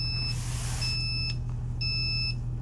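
A 2022 Entegra Aspire 44B motorhome's jack control panel beeps in a steady repeating pattern, three half-second high tones, over a constant low engine hum with no talking.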